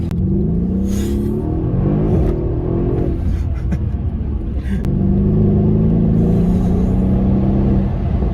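Mercedes-Benz CLS AMG in comfort mode in town, engine rising through two smooth acceleration pulls with a deep rumble, separated by a brief gear change, heard from inside the car.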